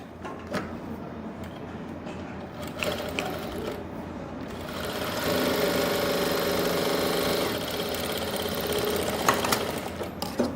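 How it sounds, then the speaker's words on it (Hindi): A sewing machine stitches plazo fabric along a marked line, running as a loud, steady mechanical whir that grows busier partway through, close and without talk. "इसी निशान के ऊपर आपको ये सिलाई ऐसे लगानी है"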